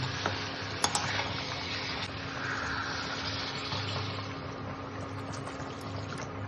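Chicken curry with potato and papaya sizzles and bubbles steadily in the pan after water is poured in, with soft stirring scrapes and an occasional clink, heard close and fairly quiet.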